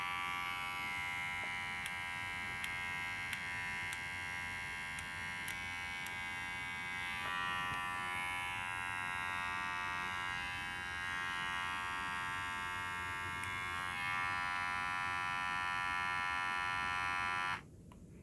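A steady, smooth buzz from a Fleco SP-208 cordless rechargeable electric shaver runs continuously, fairly close, with a faint shift midway before cutting off abruptly near the end.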